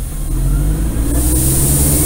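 The engine of a Diamond DA40NG light aircraft runs up at raised RPM during a ground check, a loud, steady, close drone with a high whine above it.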